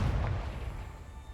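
Confringo explosive spell cast in the video game Hogwarts Legacy, a deep, rumbling blast heard right at the start that fades slowly over about a second, with no talking.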